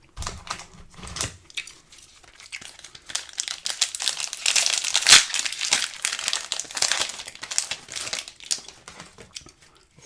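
A 1990-91 Skybox basketball card pack is opened close up, its wrapper crinkling and tearing in a continuous crackling rustle that peaks midway, with no voices.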